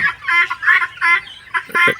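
Guinea fowl chicks and chickens let out of their pen on the first day make a series of loud, close, rhythmic squawking calls in quick bursts, with brief gaps between them.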